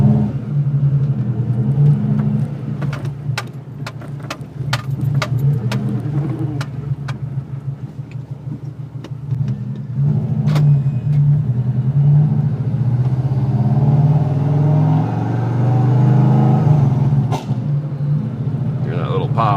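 A car with a Subaru SOHC EJ257 hybrid engine drives along, its low engine rumble steady and close, rising as it accelerates, with clicks and road noise inside the cabin.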